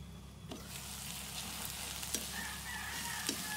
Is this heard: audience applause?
no